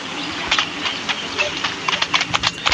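Horse hooves clatter in the Free Fire video game, an uneven galloping clip-clop that grows busier toward the end over a steady background hiss, with people talking throughout.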